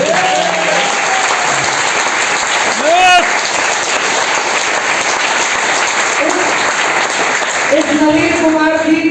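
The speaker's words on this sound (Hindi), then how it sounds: "ऐसी ताली बजानी चाहिए" Sustained audience applause at a technical training meeting in Faridabad, with loud, dense clapping continuing throughout while a voice speaks briefly over it near the start and end.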